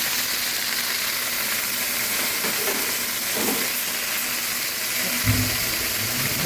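Onions sizzle gently in a pan over a low flame, a steady soft frying hiss running throughout with a faint clink of a spoon near the end.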